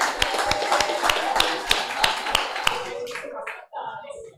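An audience at a book launch and exhibition claps in a brief, fairly loud, rhythmic burst of individual hand claps, which fades out after about three seconds into softer room noise and a few voices.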